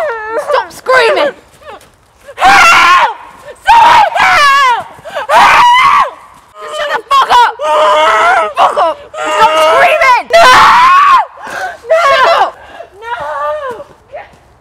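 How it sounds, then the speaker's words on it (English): Loud, piercing screams in a short drama scene, rising and breaking in repeated long bursts over about fifteen seconds, mixed with wailing and shouted voices. "Shut up and stop screaming!"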